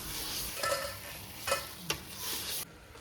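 Tomato, flat beans and bottle gourd sauté in a pan with a steady, faint sizzle, broken by a few scraping stirs of a spoon.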